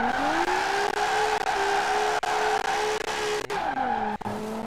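Tires squeal in a sustained skid as a nearly stock Nissan Z drifts in Forza Horizon 4, the engine droning loudly underneath with brief clicks and shifts in pitch as the car slides.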